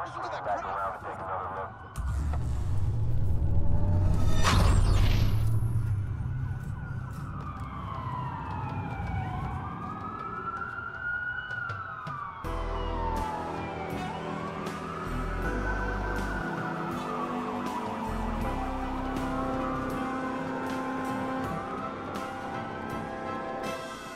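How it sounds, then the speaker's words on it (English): Police sirens in the video game Bottom of the Eight wail loudly with rising and falling sweeps, several overlapping, over a low vehicle rumble and a brief roaring burst early on. "That's a lot of sirens for a blackout."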